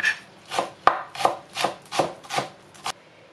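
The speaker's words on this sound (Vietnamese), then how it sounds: "Hành lá mình cắt nhỏ." Knife chopping green onions on a board, about seven crisp, evenly spaced cuts close up in a quiet kitchen, with no talk.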